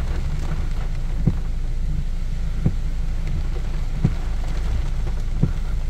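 Steady rain hisses and patters on a surface at an excavator and dump truck work site, with low rumbling and a few soft periodic thumps in the background.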